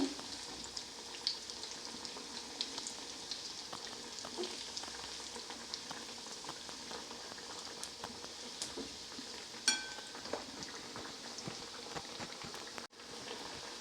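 Carrot and potato cutlets frying in a pan, a soft steady sizzle with occasional small clinks and taps, fairly quiet and with no talking.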